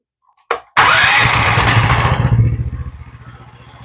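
An engine fitted with a 40 Series primary clutch fires up with a sharp burst and revs loudly up close, holding a rough, throbbing roar before it settles into a sputtering idle.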